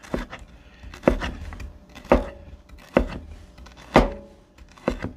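A knife chops a frozen sausage patty into small squares on a board, with about six sharp, hard thunks spaced roughly a second apart, close and clear, with quieter scraping between strikes.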